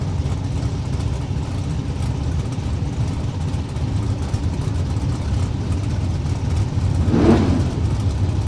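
Super gasser drag racing cars sit in the lanes at an LODRS event in Las Vegas, engines idling and revving in a steady loud rumble with one brief louder rev near the end; no one speaks.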